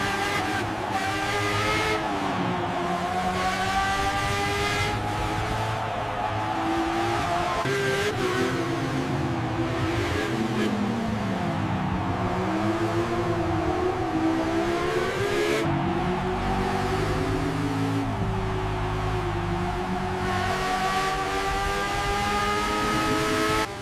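A Bugatti La Voiture Noire and a Ducati race past at Old Spa, a loud continuous engine roar with rising and falling revs and gear changes sweeping by, no talking.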